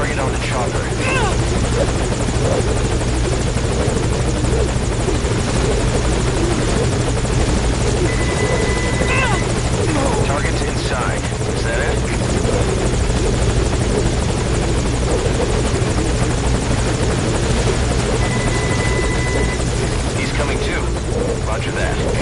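Helicopter rotor drone holding steady at a landing zone in Metal Gear Solid Ground Zeroes, loud and continuous throughout, with radio-style voices talking over it.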